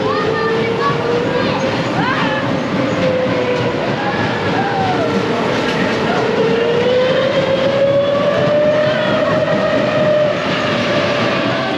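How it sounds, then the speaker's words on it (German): Powered roller coaster Berserker at California's Great America, a steady loud rumbling ride noise with rising whine and wheel clatter running continuously throughout, with voices and crowd noise mixed in. "Achterbahn mehr oder weniger, fährt immer nur im Kreis. Ist ein Powered Coaster."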